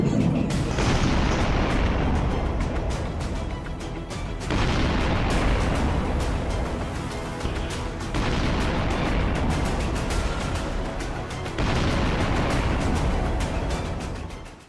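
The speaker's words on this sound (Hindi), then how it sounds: "रिहायशी इलाकों में लगातार धमाके हो रहे हैं" Russian shelling strikes residential areas of Ukraine, heavy booming blasts that overlap into a loud, continuous rumble with several distinct surges.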